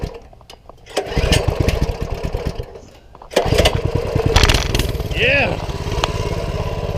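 Small single-cylinder engine of a Coleman CT200U mini bike with its governor removed, sputtering and catching after a choke adjustment, then running steadily and loud up close, with a brief spoken word.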